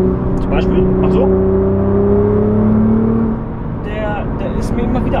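A Nissan GT-R Nismo on a test drive at high speed, heard from inside: a loud, steady engine drone with rising whine tones. People talk over the engine.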